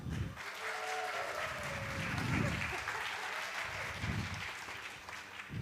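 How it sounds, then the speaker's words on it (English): A studio audience applauds to vote for contestant number one in a singing contest, steady sustained clapping with cheering mixed in, loud and continuous throughout. "we're going to pick a winner based on your applause"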